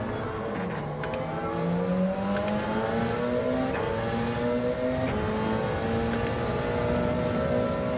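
Porsche 919 Hybrid GR1 endurance prototype racing at Fuji in Gran Turismo 7, its hybrid engine droning steadily with repeated rising upshift sweeps, loud and close throughout with no talking.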